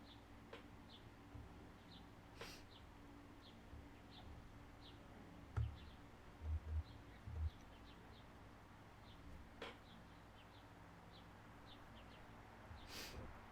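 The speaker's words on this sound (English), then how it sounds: "bird chirping sounds at the moment" Faint, small bird chirps repeat at a steady, sparse pace in the distance over a quiet outdoor hum, broken by a few soft low thumps.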